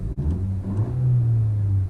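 Engine of a 2019 Honda Civic Si Coupe revving inside the cabin, a steady low droning rumble that swells and holds, close and moderately loud with no talk.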